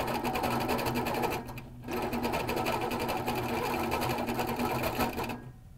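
HQ Capri sewing machine stitching fabric, a steady close motor hum with rapid needle strokes that briefly drop away once and stop near the end.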